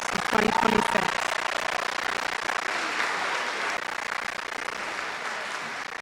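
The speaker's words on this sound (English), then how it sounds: "Could I get a big round of applause for our graduating class of 2026?" Crowd applause for a Grade 12 graduating class of 2026 at a Khalsa School ceremony, a brief voice at the start and then steady clapping that slowly softens.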